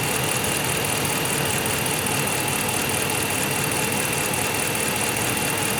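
A 2010–2019 Dodge Ram 5.7L Hemi V8 idles steadily while warming up, a loud, close, constant engine drone with no voices.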